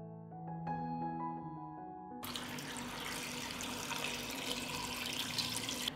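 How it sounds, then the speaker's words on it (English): Two liters of water pour into a pot of cleaned plums in a home kitchen, a brief rattle and knock of the pot and fruit followed by a steady, rushing gush of water filling the pot, close and continuous without speech. "I put the cleaned plums in a pot and pour 2 liters of water."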